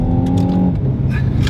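A 2016 Renault Megane GT with 202 horsepower accelerates loudly from up close, its engine note holding steady and then shifting down as it pulls through a corner.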